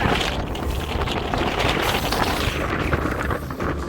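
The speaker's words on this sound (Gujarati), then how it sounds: "પવન છે ગાઈસ" Strong wind roars across a mountain peak 5141 feet high in Maharashtra, buffeting the microphone with a loud, continuous low rumble and no pauses.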